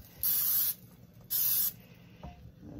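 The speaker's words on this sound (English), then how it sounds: "Okay, I gotta make sure I spray all of these." Two short hissing bursts of cooking oil sprayed from a can onto a tray of cheesy stuffed eggplants, close and crisp, separated by a brief pause.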